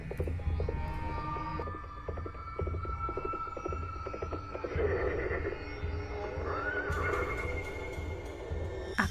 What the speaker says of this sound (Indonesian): kembali dikejutkan derap langkah kaki kuda